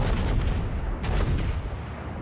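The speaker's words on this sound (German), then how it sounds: "Und die Granaten hier losschicken." Heavy naval guns of the battleship Scharnhorst in World of Warships firing shells, two loud booming salvos with rumbling, noisy decay that keeps the low end dense throughout.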